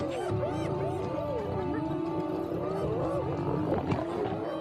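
A hungry, ferocious clan of wild lions roaring and snarling in a sustained, loud chorus of overlapping growls and moaning calls, close by and continuous throughout.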